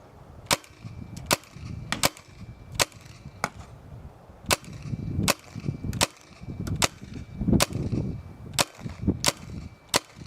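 A Tippmann FT-12 and a BT Combat Slice paintball marker fire sharp, loud pops outdoors at a target 75 feet away. Roughly a dozen shots come at an irregular, fairly steady pace, with wind rumbling faintly between them.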